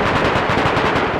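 Rapid automatic gunfire in the survival video game DayZ, a dense burst of repeated shots at an even fast rhythm, loud and continuous with no talking.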